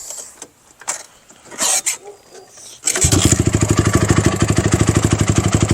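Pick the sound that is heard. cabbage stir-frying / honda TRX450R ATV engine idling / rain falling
honda TRX450R ATV engine idling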